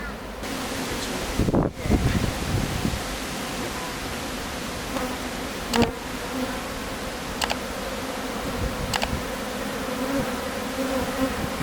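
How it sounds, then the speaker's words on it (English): Honeybees buzzing around a swarmed hive: a dense, continuous drone of many bees close by, with a few soft knocks and taps under it and no speech. "I can just gently swipe the bees off"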